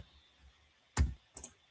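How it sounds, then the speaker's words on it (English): Keys clicking on a computer keyboard while text is entered into a product personalization option, two short bursts of taps, the first louder, close and alone. "We can try typing something."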